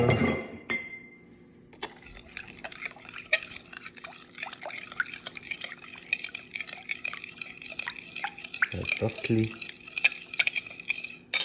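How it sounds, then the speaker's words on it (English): A spoon clinks and stirs inside a glass container of concentrated calcium hydroxide solution, producing repeated light glassy taps and liquid swishing, with a brief spoken word. "here's the 250 mils of calcium hydroxide concentrated. Gonna go in here. I'm gonna give it a stir."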